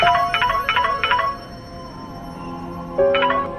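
A phone ringtone plays in short repeated electronic bursts, pauses for over a second, then starts ringing again, fairly close and with no voices.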